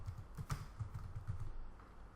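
A password is typed on a computer keyboard as a quick run of soft, close keystroke taps in an uneven rhythm, fairly quiet against a faint background.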